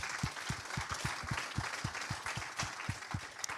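An audience at a convention claps in a slow, regular beat, soft thumps spaced about a quarter second apart against a faint murmur of more scattered clapping, fairly quiet and distant.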